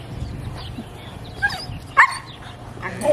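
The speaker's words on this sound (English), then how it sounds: "This one's more interested in saying hi to the other husky over there." A husky gives a few short, sharp barks and yips at moderate distance over a steady low background rumble, with faint voices nearby.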